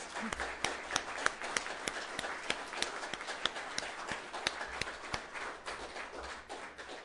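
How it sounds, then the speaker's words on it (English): Audience applause at a writers festival session, a steady wash of many hands clapping with sharp individual claps standing out, sustained and fairly close throughout without speech. "Could we please give another clap for this?"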